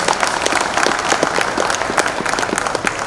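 Applause from the audience at an award ceremony in a durbar hall in Udaipur, a dense, steady wash of clapping hands that fills the whole stretch without a break.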